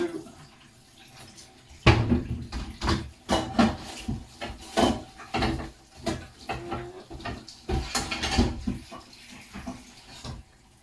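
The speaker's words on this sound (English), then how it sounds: "Let's rinse it all out" Tap water splashes and runs over cooking utensils and ingredients being rinsed in a kitchen sink before making a bolognaise, irregular bursts of splashing and clattering close by.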